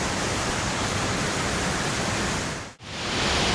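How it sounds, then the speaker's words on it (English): Roar of a waterfall near Guadalupe, Colombia: a loud, steady broadband rush of falling water fills the scene, dipping briefly to near silence for a moment before surging back at full strength. "You can't hear it over the roar of the waterfall"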